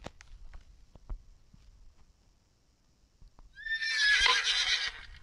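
A pony in the Roblox game Piggy neighs in a loud, bright whinny lasting over a second, following a stretch of faint, sparse clicks and thuds.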